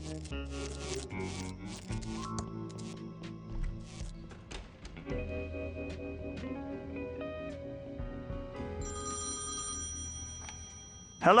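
An old-fashioned telephone rings within the Thimbleweed Park adventure game, its bell tones layered over steady background music, with no talking.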